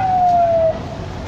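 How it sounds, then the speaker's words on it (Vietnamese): Fire truck siren at a truck fire near a bridge, a single falling wail that holds loud for about half a second then drops away, over a low background of street noise. "Có 2 xe cứu hỏa đến này nha."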